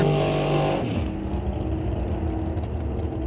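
Drag race cars including a 1962 Chevy run at a raceway, a loud engine roar with a sharp drop in pitch after the first second, then a steady rumbling drone.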